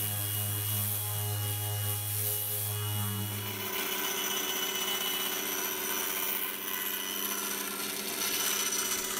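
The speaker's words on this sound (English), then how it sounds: "I'm taking off as much as I can with a razor blade" A razor blade scrapes thin wood veneer on an acoustic guitar, a continuous dense rasping that holds steady throughout, with a low hum fading out partway.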